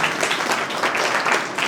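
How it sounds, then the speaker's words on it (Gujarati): Loud, dense applause from a large crowd at a Sorathiya Prajapati community mass wedding in Upleta, continuous clapping filling the whole moment. "જોરદાર તાળીઓ પાડજો."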